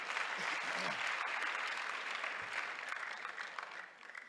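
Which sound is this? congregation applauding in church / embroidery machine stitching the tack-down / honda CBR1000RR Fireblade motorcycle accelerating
congregation applauding in church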